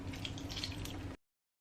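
Milk poured into a Bofrot dough mixture, a steady close splashing trickle for about a second before it stops abruptly, with no voices.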